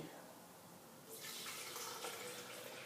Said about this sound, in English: it says first to put 100 milliliters of water